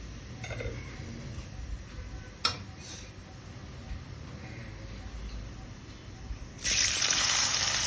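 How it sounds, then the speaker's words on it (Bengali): Cumin seeds sizzle in hot oil in a pan for a Bengali-style katla fish curry, a steady soft frying hiss with one sharp clatter early on, swelling into a louder, brighter sizzle near the end. "এবার ওই তেলের মধ্যে আবার খানিকটা জিরে আমি ফোড়ন দিয়ে দিলাম।"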